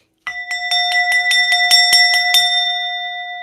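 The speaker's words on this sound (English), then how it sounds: "Where's my bell?" A single bell is struck in a quick, steady series of about a dozen bright metallic strikes, each ringing on with a sustained tone, close and loud, with no talk over it.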